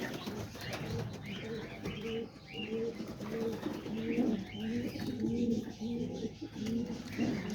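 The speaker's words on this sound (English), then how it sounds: "there's the pigeons right here. All the new babies, and some of them sitting on eggs" Pigeons in a loft with new chicks and nesting birds, soft repeated cooing calls from several birds close by, a low murmuring rhythm over quiet background rustle and occasional wing flutters.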